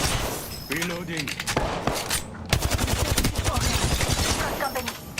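Video game gunfire in rapid bursts of sharp, loud shots, dense automatic fire in the second half, with a voice speaking briefly early on.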